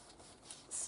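Paper being rubbed down by hand onto a glued base while making a 3D Christmas house craft, a soft dry brushing friction that swells into a brief louder rub near the end, close and quiet with no talking.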